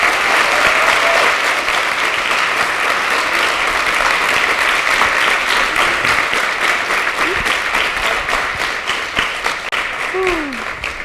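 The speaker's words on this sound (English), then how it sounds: "Let's give her a big round of applause, please." An audience at a conference applauding after a talk, sustained loud clapping for about eleven seconds that slowly thins toward the end, with faint voices underneath.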